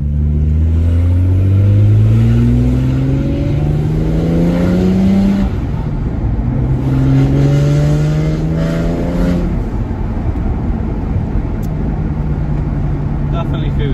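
A BMW with an N54 engine and a new twin-plate organic clutch revs through repeated upshifts, its engine tone climbing in rising sweeps as it accelerates on a drive around the area, with talk heard inside the car.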